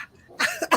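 A single short cough, close and clear, in two quick bursts after a brief quiet moment.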